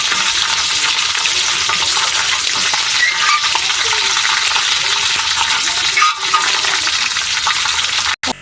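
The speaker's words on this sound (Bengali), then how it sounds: "কিভাবে দেখছো ভাজছি? এভাবে তুমিও ভাজবা।" Chicken pieces fry in a pan for a home-cooked chicken curry, giving a loud, steady, dense sizzle with occasional stirring scrapes throughout, alone without talk.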